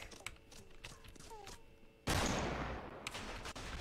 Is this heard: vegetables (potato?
no